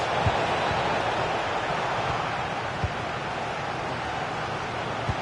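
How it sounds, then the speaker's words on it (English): Stadium crowd in the FC 26 football video game, a steady wash of fan noise roaring continuously throughout with no distinct chants. "just listen to the atmosphere in here. The fans are doing their bit, trying to spur them on to this equaliser"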